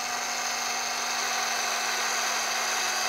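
Power drill boring a bit into a standing tree trunk to probe for sound wood, a steady, loud, unbroken high whine that holds constant throughout.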